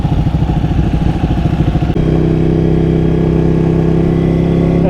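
A Ducati Panigale sport motorcycle engine runs loud and close, with a choppy, pulsing idle that steadies into a sustained, droning rev partway through.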